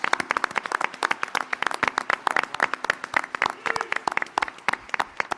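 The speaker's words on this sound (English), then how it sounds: "Come on, big round of applause." Audience at a congressional candidate debate applauding, a lively burst of many sharp, distinct claps close by, steady and dense for several seconds.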